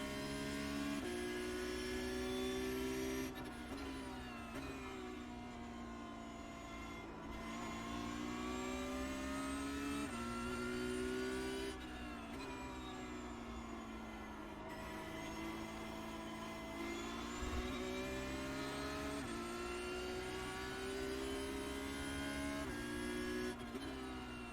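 A race car engine in a racing video game screams through a fast lap, pitch climbing and dropping repeatedly with several quick gear shifts, loud and continuous with no talk.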